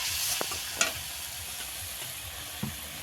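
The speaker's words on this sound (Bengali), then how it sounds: "আবারও ভালো করে মশলাটা কষিয়ে নেব, যাতে করে মশলার কাঁচা গন্ধ চলে যায়।" Spice paste (masala) with a splash of water frying in a pan, a steady soft sizzle broken by a few sharp scraping stirs, close and alone with no voices.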